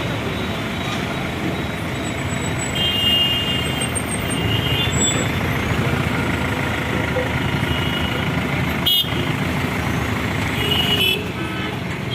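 Heavy highway traffic held up after an overturned container truck near Karad, with a steady, loud broadband rumble of truck engines close by and occasional tones that may be horns.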